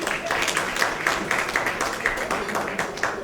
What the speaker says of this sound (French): On va l'applaudir encore très fort,